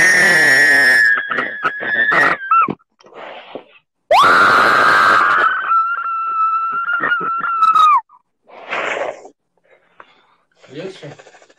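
A woman screams loudly during an emotional release session, with long sustained shrieks broken by short pauses and quieter breathy gasps between them, close and intense.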